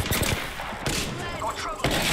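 Video game gunfire in rapid bursts of sharp, loud shots with echoing tails, a few distinct volleys across a couple of seconds with no talk.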